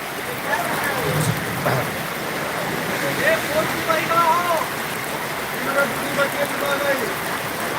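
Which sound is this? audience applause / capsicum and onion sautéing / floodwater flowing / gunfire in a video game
floodwater flowing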